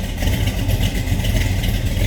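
Custom-built 1987 Chevrolet Monte Carlo engine settling into a low, lumpy idle, a steady close rumble with a faint uneven pulse and no voices over it.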